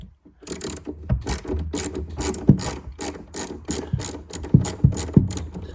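A ratchet with a 10mm socket loosens a car battery terminal in the boot of a BMW F8X M2/M3/M4, giving a rapid, close string of sharp clicking pawl ticks with a few heavier knocks, alone and fairly loud.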